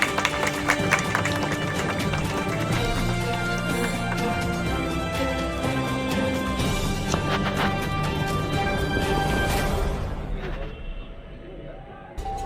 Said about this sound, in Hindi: जोरदार तालियों से राकेश जी का भी भैया उत्साहवर्धन